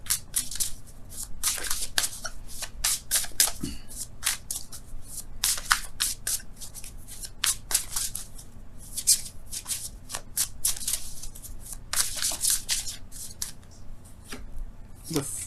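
A tarot deck being shuffled and cards drawn, giving repeated crisp riffling bursts and card snaps close at hand that continue in irregular bursts throughout.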